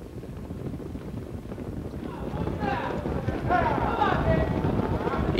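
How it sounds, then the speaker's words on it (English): Harness racing mares pace behind a rolling starting gate at the Meadowlands in 2001, with faint, rapid hoofbeats and wheel rumble under wind noise, while an announcer talks over them. "Open pace for mares all lined up in behind the gate, and they're heading toward the start."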